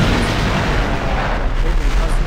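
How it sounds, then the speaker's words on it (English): Deep rumbling video game explosions rolling one into another, a continuous loud barrage of blasts with a faint voice underneath. "Pretty explosions."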